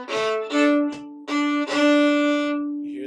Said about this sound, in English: It sounds like this with the ghost bow